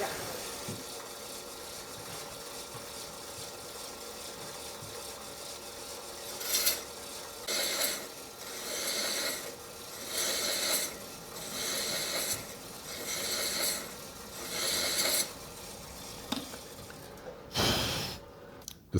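A thread chasing tool cuts a thread on a wooden acorn box cap spinning on a lathe. After a steady motor hum, about eight rhythmic rasping passes follow at regular intervals, close and clear, ending with a sharper scrape.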